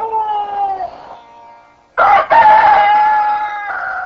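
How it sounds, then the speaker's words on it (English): A rooster crows loudly and close, one long drawn-out call that tails off, followed after a short pause by a second strong crow that holds to the end. "cursed the crowing roosters"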